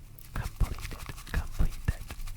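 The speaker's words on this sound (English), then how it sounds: "So we just keep whisking, whisking, whisking, whisking until we feel that we have completed" Bamboo whisk frothing matcha tea in a bowl, heard close up as quick, soft repeated brushing strokes with light scratchy swishes and occasional taps, moderately quiet throughout.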